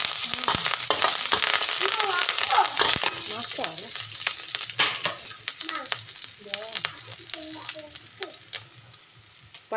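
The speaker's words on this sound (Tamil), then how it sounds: "இந்த மாதிரி வதங்கணும்னா கருவேப்பிலை சேர்த்துக்கிறோம்." Curry leaves sauté in a frying pan with a steady close sizzle and crackle, stirring scrapes mixed in, while a person talks over the cooking.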